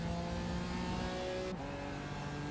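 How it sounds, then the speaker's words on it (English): Engine drone of a BMW GT4 race car in a sim racing game at Jerez, a steady, fairly subdued tone that shifts pitch briefly mid-way, heard alone without talk. "The BMW GT4 car is so underwhelmingly quiet."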